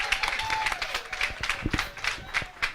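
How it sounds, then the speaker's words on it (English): A small group at a Rotary Club meeting claps to welcome a new member, with distinct, uneven handclaps over a low murmur of voices and a faint tone in the background. "Can we welcome him with a round of applause?"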